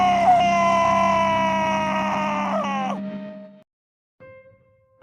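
A boy in a horror cartoon lets out a long, loud, sustained scream of fear that wavers and breaks at the end, then cuts to silence before a faint tonal tail.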